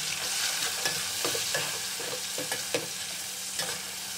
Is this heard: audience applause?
no